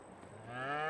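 A cow lows in Farming Simulator 22, a single drawn-out moo that rises and grows louder to the end, heard close and alone with no talk.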